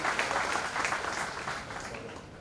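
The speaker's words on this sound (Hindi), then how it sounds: "बहुत बहुत जोरदार तालियों के साथ उनका स्वागत करते हैं" An audience at a student scholarship function and principal felicitation applauds to welcome a guest, with moderately loud, dense clapping that fades slightly toward the end.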